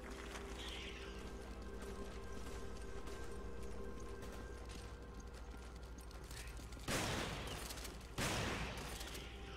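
Gunfire in Resident Evil 5: two sharp, loud shots about a second apart ring out late, over a constant low ambient hum of the game.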